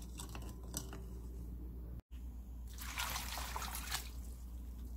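Water salted with sea salt is poured over potatoes and carrots in a pot for boiling, a short splashing trickle swelling midway, set among light clicks and drips.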